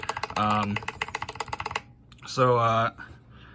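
Keys clack sharply on a Zeal Clickiez mechanical keyboard in quick, close, rhythmic runs of typing, interrupted twice by short vocal bursts that sound like singing or humming.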